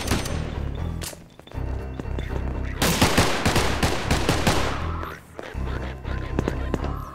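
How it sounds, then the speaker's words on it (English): Gunfire in the video game Atlas Uprising comes as rapid bursts and single shots over a continuous game soundscape, loud and close, with a voice speaking between the bursts. "Shots fired. Oh shit, the fucking soldiers."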